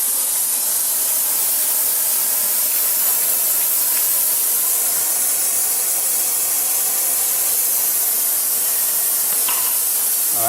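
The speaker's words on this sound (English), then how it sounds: "I'm going to make foam here." A steady, loud hiss of fire-suppression foam spraying under pressure runs continuously, broad and unbroken, with no voices.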